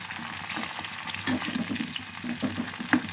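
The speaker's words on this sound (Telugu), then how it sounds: "ఈలోపు పచ్చిమిర్చి వేసుకుందాం" Green chillies frying in a pan for a wheat rava tomato bath, giving a steady close sizzle with light stirring scrapes and no talk.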